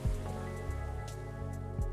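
Soft rain patters steadily in a cozy coffee shop, faint and continuous beneath a low, droning musical hum.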